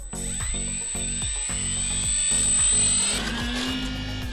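An electric RC bush plane's motor and propeller whine up to a loud, high buzz as the plane takes off, with a rhythmic pulsing underneath as the throttle rises.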